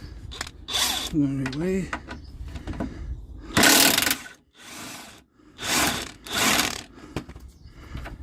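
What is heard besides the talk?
big DeWalt power tool removing car suspension parts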